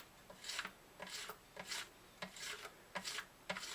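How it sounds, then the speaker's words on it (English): Sandpaper rubbing across the wooden top of an acoustic guitar during a crack repair, heard as about ten short rasping strokes in a steady back-and-forth rhythm, close and fairly quiet with no talking. "let's go to sandpaper, because I'm still feeling it a little bit"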